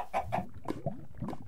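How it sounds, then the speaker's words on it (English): Chicken in the Minecraft video game giving a few short clucks in quick succession, close and fairly quiet, with no speech over it. "Whoa, it's a little chicken."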